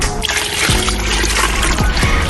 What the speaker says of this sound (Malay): Akhir sekali, tuangkan air basuhan ikan.